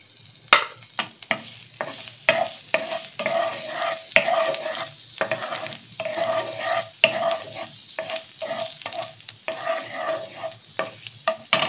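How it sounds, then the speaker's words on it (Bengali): Chopped garlic cloves fry with mushrooms in a pan, a steady close sizzle broken by frequent sharp scrapes and clicks of a stirring utensil against the pan. "এরপরে আমি এই যে গার্লিক ক্লোভ যেটা কেটে রেখে দিয়েছিলাম সেটা দিয়ে দিলাম"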